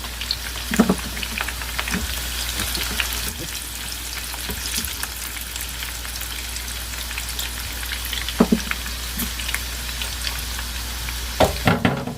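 Garlic and red chillies frying in oil in a pan, a steady loud sizzle with a few sharp crackles and stirring clatters now and then.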